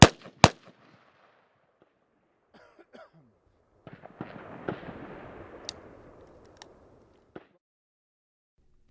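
M4 rifle and pistol shots ring out on a shooting range: two sharp loud cracks at the start, then a spread of fainter pops and rumbling echoes, with a lone distant shot near the end.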